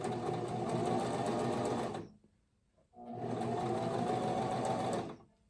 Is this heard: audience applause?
no